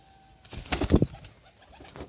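Pigeons coo at close range, a short cluster of low throaty calls lasting under a second, with a faint flutter around them and no talking.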